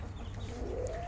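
Chickens in a backyard flock in a farm garden setting cluck softly at low level, a brief continuous murmur of fowl sounds with no speech over it.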